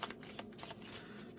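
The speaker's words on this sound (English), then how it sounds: "Shuffle them in" A deck of game cards riffled together, a short quiet burst of rapid papery flutters and soft slaps lasting just over a second.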